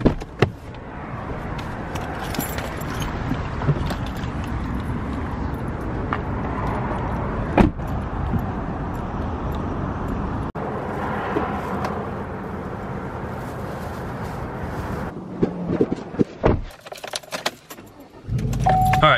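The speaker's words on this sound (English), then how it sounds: "so I'm gonna make this short little drive" A car driving a short distance to a breakfast spot, heard from inside the cabin as a steady road and engine rumble, with a few clicks and knocks toward the end and a brief quiet gap near the end.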